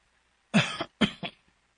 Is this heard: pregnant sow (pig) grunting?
no